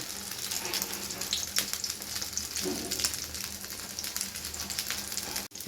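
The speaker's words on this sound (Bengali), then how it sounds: "মা সরিয়ে সরিয়ে এখানে বড়াগুলো দিচ্ছে" Lentil or vegetable fritters (bora) frying in hot oil in a home kitchen, a steady close sizzle and crackle running throughout with occasional small pops and no talk.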